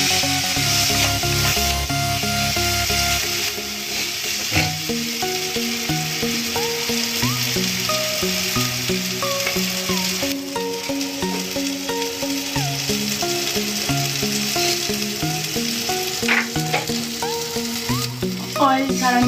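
Ginger, garlic and onion frying in oil for a chicken masala fry, a continuous loud sizzle with scraping and stirring of a utensil in the pan throughout.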